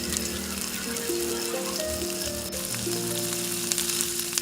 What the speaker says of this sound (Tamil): எண்ணெய் காஞ்சிடுச்சு இப்போ ஒவ்வொரு காயை எடுத்து சீவ ஆரம்பிச்சிருவோம்